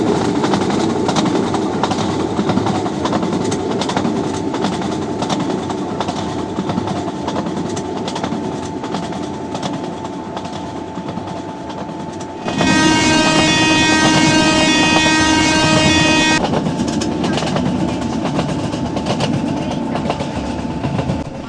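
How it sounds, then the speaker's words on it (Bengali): Passenger train on the Chennai to Kharagpur route crossing a bridge near Vijayawada, heard from inside as a constant loud rumble and clatter that swells midway into a brighter, ringing metallic tone before settling back. "জানলা ধারে বসে সত্যি ব্রিজ পার হচ্ছি"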